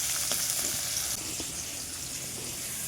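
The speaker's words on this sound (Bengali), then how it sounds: "ওই একই কড়াই তেল দিয়ে আমি পেঁয়াজগুলো লাল লাল করে ভেজে নেবো" Chopped onions frying in oil in a wok, a dense steady sizzle with a few soft stirring clicks, close and continuous with no talk.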